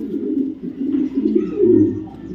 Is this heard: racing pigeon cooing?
yes